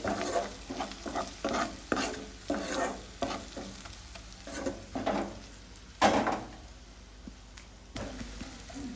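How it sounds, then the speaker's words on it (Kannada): Masala with onions fries in oil in a pan, heard as repeated rhythmic scraping stirs over a continuous sizzle, close and fairly quiet, with a sharper clatter near the end and no voices. "ಮಸಾಲ ಹಾಕಿದ್ಮೇಲೆ ಸ್ವಲ್ಪ ಫ್ರೈ ಆಗಿತ್ತು"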